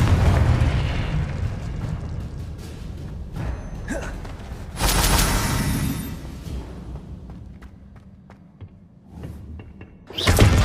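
A Confringo blasting spell explodes in the video game Hogwarts Legacy, producing loud booming blasts, one big burst midway that slowly decays, and another sharp explosion at the end.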